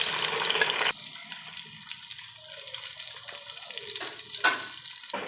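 Garam masala spices fry in a pan, a steady broadband sizzle that drops to a quieter crackle after a second, with a few sharp pops and scrapes near the end and no talking.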